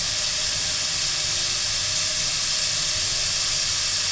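Small shallots sautéing in a pan give off a steady, unbroken hiss of frying at a constant level, with no stirring knocks or voices.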